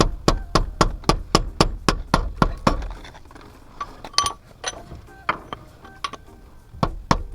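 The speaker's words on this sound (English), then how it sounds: "putting the half shaft, the 1/2 inch extension, and tapping on the axle itself and not the half shaft" A 1/2 inch extension taps on a car axle during removal of a K-series engine, first in a quick even run of about a dozen sharp metallic knocks, then slower and irregular hits.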